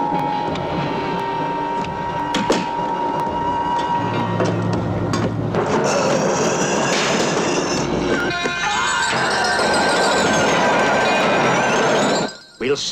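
A train runs along rails in a horror film scene, giving a continuous rumbling clatter with intermittent clanks, mixed with music and effects, while people speak over it.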